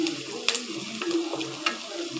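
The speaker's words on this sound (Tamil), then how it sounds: "நல்லா வதங்கி வரணும்" Food sautéing in a pan, with a steady sizzle, a few sharp stirring scrapes and clicks, close and moderately quiet, no voices.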